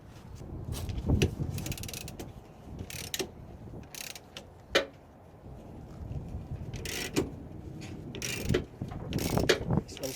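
Ratchet working on a rear leaf spring bolt of a Jeep Cherokee XJ, quick repeated clicking bursts in uneven runs, close up over a low background rumble.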